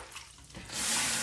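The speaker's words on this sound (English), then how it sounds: "let's get some nice extra hot water" Hot water from a bathroom tap gushes on suddenly and runs in a steady loud, close hiss into the sink after a moment of quiet room noise.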